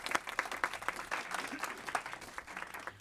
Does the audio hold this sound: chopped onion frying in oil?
no